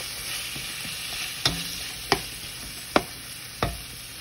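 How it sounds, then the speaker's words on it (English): Garlic sizzles as it is stirred into frying onions for pancit, a steady close crackle broken by four sharp scraping stirs spaced about a second apart. "I went ahead and added the garlic"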